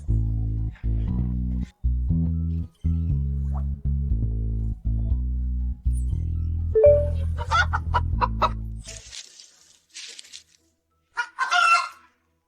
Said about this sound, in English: It's a chicken. There are chickens nearby.